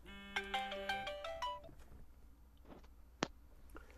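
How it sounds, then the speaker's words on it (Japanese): A phone plays a melodic ringtone for an incoming call: a quick run of bright descending electronic notes that stops after about a second and a half, followed by quiet rustles and a sharp click. "なんで来てんだよ電話"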